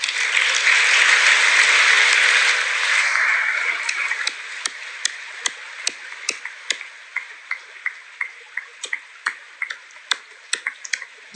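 Applause fills a congressional chamber at first, then thins to a lone pair of hands clapping slowly and sharply, each clap spaced and distinct against a quiet room.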